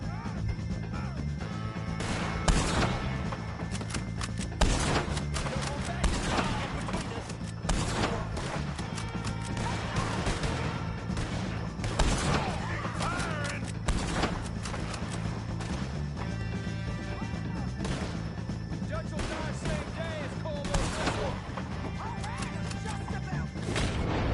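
Gunfire from a shootout with O'Driscoll gang members in Red Dead Redemption 2: repeated sharp shots and crashes burst over a steady low game rumble across the whole stretch, loud and fairly close.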